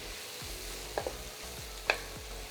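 Butter sizzles faintly in a pan of frying bhindi masala, a soft steady hiss broken by a few quick scraping stir clicks.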